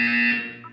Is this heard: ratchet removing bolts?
no